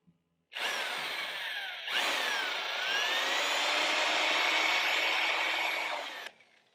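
A power drill bores steadily into metal on a Ford Bronco during a uniball suspension conversion, a loud, close, continuous whine lasting about six seconds with a brief dip near the start and no talking.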